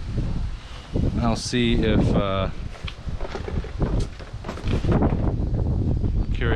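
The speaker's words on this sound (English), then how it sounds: "A lot windy outside, actually." Wind rumbles and buffets against the microphone outdoors, a steady low roar under a person talking close by.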